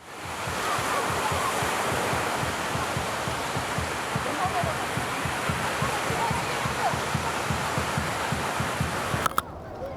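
Ocean surf by the sea where people sit eating snacks, a steady broadband wash of waves rolling in continuously and fairly loud, with a brief disturbance near the end.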